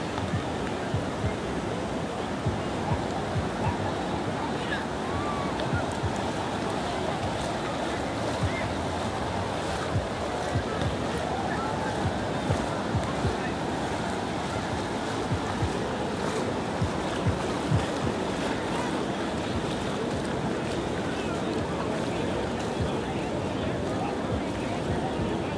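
Surf rolls continuously onto Praia Grande beach in Guilhermina, Brazil, a broad steady wash of breaking waves buffeted by wind on the microphone, with beachgoers' voices faintly mixed in.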